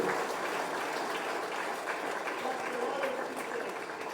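Residents at an outdoor community meeting in West Demerara applaud a group of kids, a fairly soft, even patter of clapping from a crowd lasting a few seconds, with some murmuring mixed in.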